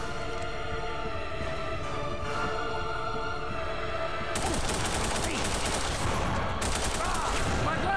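Gunfire in The Punisher on the original Xbox, steady automatic bursts under game sound, turning louder and denser about halfway through as the shooting intensifies, with a voice speaking faintly.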